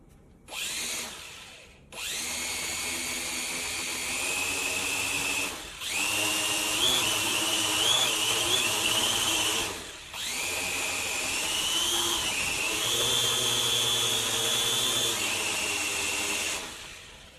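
Small Kingco Hunter radio-controlled quadcopter motors whine steadily at high pitch, spinning up in several sustained bursts separated by brief pauses, close and loud with no talking.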